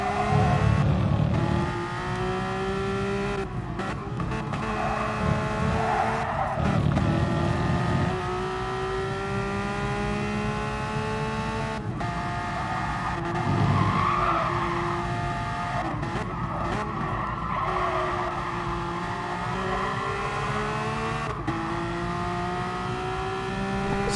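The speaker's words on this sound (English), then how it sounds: "Let's see what these beautiful Porsche cars sound like." Porsche Supercup race cars lap Brands Hatch Indy in a racing game, their engines droning steadily with repeated rising and falling pitch sweeps through gear changes for the whole stretch, with no talk over them.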